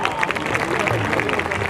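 Crowd applause for the organizers at a former students' reunion gathering in Surat, a steady patter of many hands clapping through the hall at even volume.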